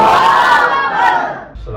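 A crowd at a religious gathering answers the takbir call with one loud, unified shout that swells and then cuts off sharply near the end.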